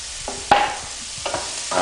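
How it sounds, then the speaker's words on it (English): Diced onions go into a hot pan for risotto, and a wooden spoon stirs them. A soft, steady sizzle runs under a few scraping knocks, close and without speech. "we want to add in the diced onions"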